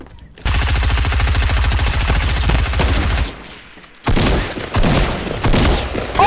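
Rapid, loud automatic gunfire in a squad-based shooter video game roars in long sustained bursts, pauses briefly, then resumes in choppier volleys up close.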